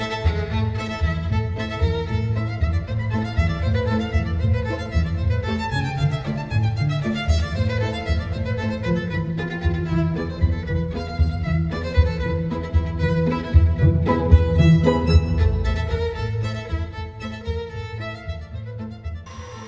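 A Tu-154M airliner's jet engine spools up in the X-Plane flight simulator, a steady loud mechanical drone with layered tonal whine that swells gradually throughout, with no talking over it.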